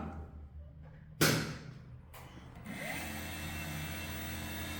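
A 500W CNC router spindle motor switches on with a sharp burst, then settles into a steady, loud high-pitched whine with a constant hum beneath it, running alone without voices.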